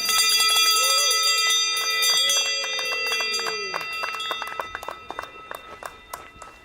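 A bell rings out for a personal distance record at a backyard ultra race, a string of rapid bright metallic strikes that ring on with long sustained tones, fairly close and loud.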